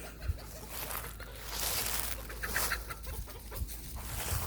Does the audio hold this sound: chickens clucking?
yes